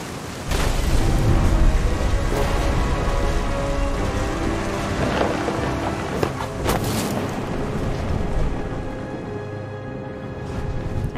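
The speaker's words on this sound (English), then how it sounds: "The thunder sounded much too close and full of angry power" Steady heavy rain with rolling, booming thunder in the video game What Remains of Edith Finch, loud and continuous throughout, with sharper thunder cracks standing out midway.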